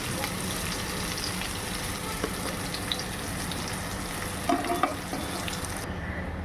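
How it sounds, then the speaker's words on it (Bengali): Cauliflower florets fry in hot oil, a steady dense sizzle and crackle throughout with occasional stirring clinks, close and continuous. "ফুলকপিগুলোকে একদম লাল করেই ভাজবো, তাহলে কিন্তু খেতে ভীষণ ভালো হয়"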